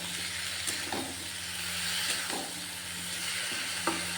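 A fish head curry with a ground ginger and cumin paste gets stirred in a pan, giving a soft sizzle and hiss with a few faint scrapes of the spoon, quiet and steady, with no speech.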